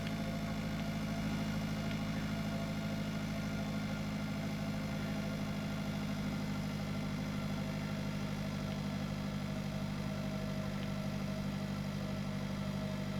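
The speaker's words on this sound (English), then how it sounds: "this tractor can't pull the water up the hill" Tractor engine labouring uphill while pulling a water load in a farming simulator game: a steady, droning mid-to-low engine hum that holds constant and unbroken throughout, fairly faint and alone.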